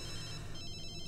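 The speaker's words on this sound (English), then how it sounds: "Phone's ringing now." A telephone rings in a video game, a faint, steady electronic trill heard briefly and alone.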